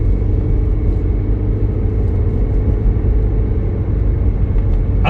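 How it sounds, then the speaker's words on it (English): A 2006 Toyota Prius accelerates gently, a steady loud low rumble of road and cabin noise with a faint whirring motor tone on top, heard from inside the car without talking. "now we can accelerate a little bit. You can hear the little motor."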